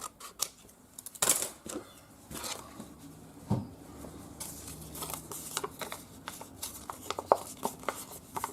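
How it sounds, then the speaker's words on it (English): Scissors snipping paper while aging paper for a handmade keepsake, a series of quiet, irregular close cuts and rustles with brief louder snips. "actually I'm just going to cut this"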